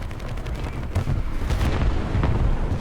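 Artillery strike in War Thunder, a heavy wash of rumbling blasts and booms rolling continuously, loud and dense, with sharper impacts near the start and middle over a noisy battlefield background.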